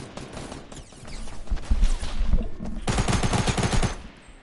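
Rapid automatic fire from a Tac SMG in a battle royale video game, with loud, dense bursts in two main strings separated by a brief lull, heard close and alone.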